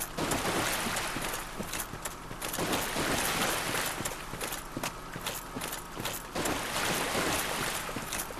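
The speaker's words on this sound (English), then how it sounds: "There's a secondary splash on your footsteps in the water" Footsteps splashing through shallow water in Dark Souls Remastered, a continuous run of rhythmic sloshing steps, each with a secondary splash, fairly close and steady with no talking.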